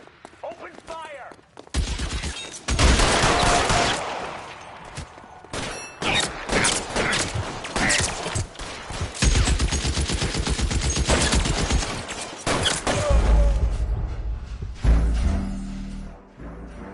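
Dense gunfire in the crime video game L.A. Noire, with rapid machine-gun bursts and single shots crackling almost continuously for many seconds, loud and close, with brief shouting voices mixed in.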